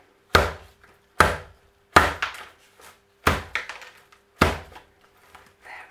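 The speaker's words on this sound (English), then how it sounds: "Let's just bang it." A pot holding a Phragmipedium orchid potted in orchid bark is banged five times on a surface to settle the plant, each sharp thud followed by a brief rattle, spaced about a second apart.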